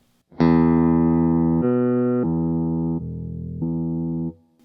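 Electric guitar played through a Digitech Hammer On pedal with its pitch shifted up a fifth, five sustained, buzzy notes in a row at steady loudness, each changing pitch cleanly before a quick fade.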